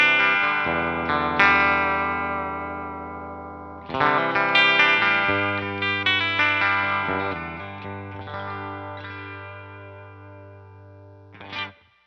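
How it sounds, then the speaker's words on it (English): Clean electric guitar played straight through a pedalboard with no effects engaged, loud and close, sounding out chords and single notes that ring and decay, with a sharp strum near the end; no talking. "this is the guitar going into the board. It's going into G2 and out. So this is the direct sound."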